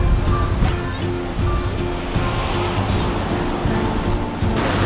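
Ocean waves wash onto a beach in a loud, continuous surf roar with wind buffeting the microphone and faint voices mixed in.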